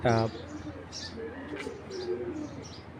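Racing pigeons at a large pigeon farm, soft cooing and brief chirps heard faintly after a short opening sound, over a quiet room background.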